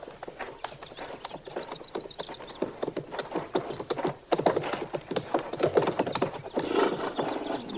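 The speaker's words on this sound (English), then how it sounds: "All right, Chester, you can bring the horses out now." Several horses are led out in an old Western town setting, their hooves clip-clopping steadily and unevenly on hard ground, with a brief whinny amid moderate background noise.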